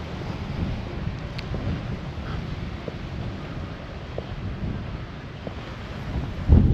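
Steady wind gusting at a seaside naval memorial in Portsmouth, a low continuous rumble buffeting the microphone with faint surf-like hiss and a louder gust at the end, no voices.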